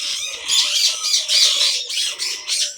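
A parrot at a zoo squawks loudly in a rapid series of harsh, raspy calls that fill nearly three seconds with only brief gaps, close and dominant with no talk.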